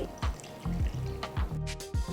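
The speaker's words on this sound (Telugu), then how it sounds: "కొద్దిగా మిక్సీని కడిగి నీళ్లు పోసి" Water is poured into a mixer jar to rinse out the masala for chicken kurma, heard as repeated sloshing gurgles in rhythmic bursts, close and fairly loud.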